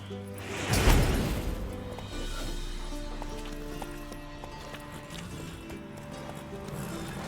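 Horse hooves clatter loudly at the start in The Witcher 3: Wild Hunt, then a steady low rumble with tonal game-style ambience continues underneath.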